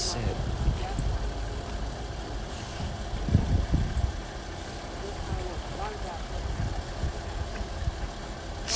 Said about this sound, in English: Sound like farm tractors. Well, those are U-boats for you.